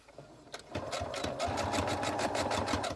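A sewing machine stitches a backstitch on a fabric pillowcase, starting with a few slow stitches and then running in a steady, loud, rapid mechanical rhythm.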